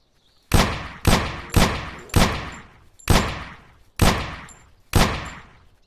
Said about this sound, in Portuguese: esses tiros estão se espalhando igual